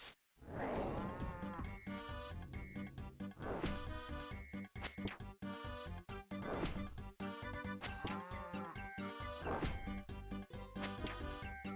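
A creature in the video game Palworld snorts and bellows in loud, cow-like bursts that repeat every couple of seconds over a layered game soundtrack.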